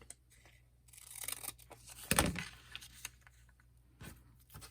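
Quiet paper cutting for a traveler's notebook journal: soft scissor snips and crisp paper rustles at close range, with one sharper crunchy cut near the middle and scattered light handling sounds around it.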